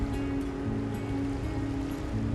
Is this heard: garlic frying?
no